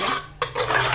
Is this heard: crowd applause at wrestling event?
no